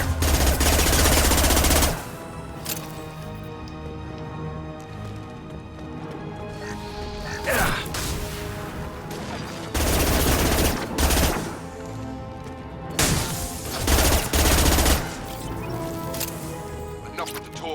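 Bursts of gunfire from a sci-fi shooter firefight, with several loud clusters of rapid shots and booms separated by quieter stretches of game ambience and music, mostly without talk.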